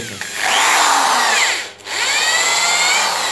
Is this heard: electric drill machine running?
yes